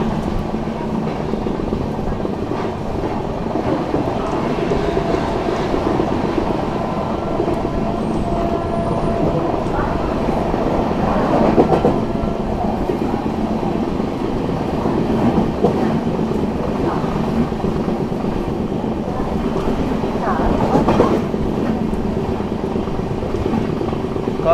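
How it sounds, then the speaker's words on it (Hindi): The Prayagraj Express runs at high speed through Etawah Junction, a loud, steady rail roar with rhythmic wheel clatter for the whole stretch. "काफ़ी बढ़िया रफ्तार में जो है इटावा जंक्शन को स्किप किया है अपनी प्रयागराज एक्सप्रेस ने"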